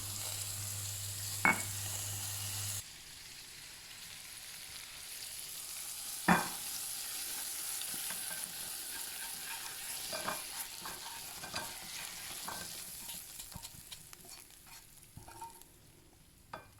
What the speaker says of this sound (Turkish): Sucukla fazla pişirmiyorum ki yanmasın diye.